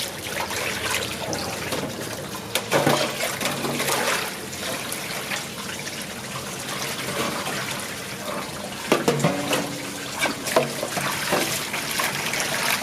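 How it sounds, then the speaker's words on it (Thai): Pork large intestine being rinsed under cold running water, a steady broadband splash and trickle from the tap with a few louder sloshes and handling knocks, close and continuous with no talk. "เราก็จะล้างน้ำเย็นอีกประมาณ2น้ำค่ะ"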